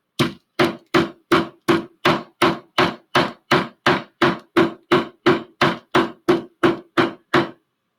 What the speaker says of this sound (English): I need the hammer, and then I'm going to bang on the flower.